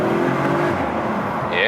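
Inside a tunnel, an Audi RS5 Coupé's engine drones loudly, its tone falling as the gearbox makes a crisp upshift before the revs climb again near the end.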